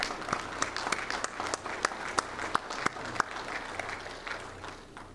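An audience at a US Navy Officer Candidate School graduation ceremony applauds steadily for several seconds, sharp individual claps standing out from the dense crowd clapping before it fades slightly.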